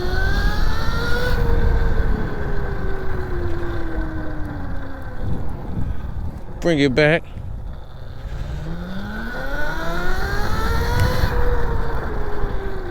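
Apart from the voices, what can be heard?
Razor MX650 electric motorbike accelerating in figure eights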